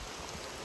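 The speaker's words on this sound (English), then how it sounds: "that's hard rain" Hard pouring rain during a storm with strong winds, a steady broadband wash that holds at an even level through the whole short stretch, with no voices over it.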